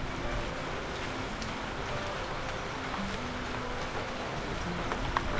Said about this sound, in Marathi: मोठे थेंब पडत आहेत.